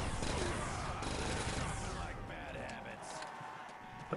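Explosions and gunfire blowing up zombies in a video game, a dense burst of blasts and rapid shots that fades over a few seconds, loud and close.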